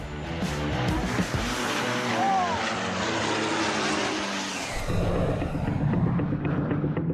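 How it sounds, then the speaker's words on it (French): Alpha Jet military trainers of the Patrouille de France roar through a takeoff, a loud rushing engine blast that shifts in pitch as it passes, then a second surge of engine noise follows. "les 8 Alpha Jets s'envolent à leur tour"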